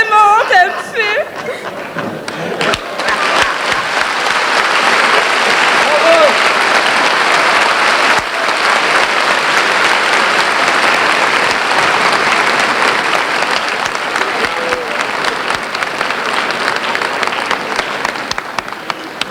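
Music-hall audience applauds the performers, a loud continuous burst of clapping that holds steady throughout, opening under a performer's voice and a few laughs before the clapping carries on alone.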